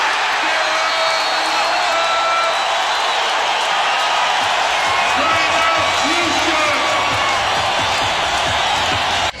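Loud, continuous crowd roar and cheering fill the arena at a 2008 playoff basketball game between the Rockets and the Jazz, with commentators talking over the noise throughout.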